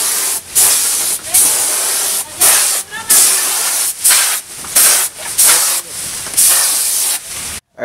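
Spray can laying primer onto a car grill, likely a Toyota Altezza's, in loud repeated hissing bursts of about a second each separated by short pauses, close and dominant throughout.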